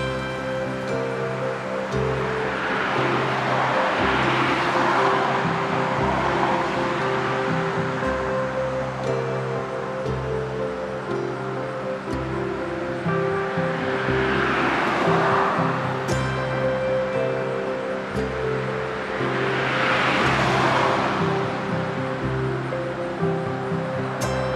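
Busy street traffic on a windy day beside a cemetery: a continuous broadband roar that swells and fades roughly every eight seconds as vehicles pass, with gusting wind noise and no voices.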